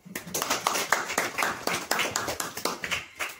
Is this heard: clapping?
yes